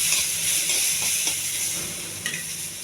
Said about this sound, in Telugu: టమాటా, చింతపండు అండి. ఇది కూడా దోరగా వేగించాలి.